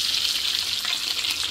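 A whole porgy fish, just flipped, fries loudly in a pan with a dense, steady sizzle and hiss and no voices.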